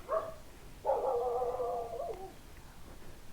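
A puppy found in a drain lets out a short yip, then a longer whining, yelping cry, close and fairly faint, with no talking.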